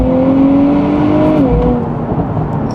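Nissan Z NISMO exhaust under hard acceleration, a loud, close engine note climbing steadily in pitch, then a brief drop at a shift before building again, sustained throughout with no talking.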